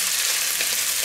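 Onions sizzle in a frying pan on low heat beside a steak, a steady dense crackle and hiss with no talk over it.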